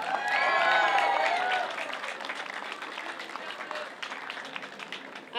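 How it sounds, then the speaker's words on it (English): Pageant audience applauding at Miss Asia Fest 2016 in Tampa, Florida: a dense burst of clapping and cheers, loudest in the first second and a half, then settling into steady, sustained applause from a large crowd. "Let's give her another round of applause."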